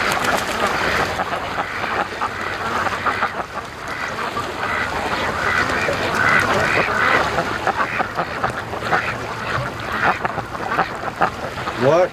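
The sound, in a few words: flock of free range ducks quacking during morning rush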